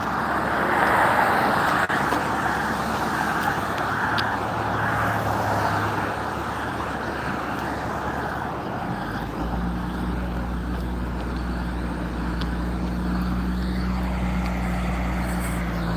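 Steady traffic on a road where a jogger runs, with continuous engine rumble and tire noise from passing cars and heavier vehicles, a deeper low hum building after the midpoint as something larger rolls by.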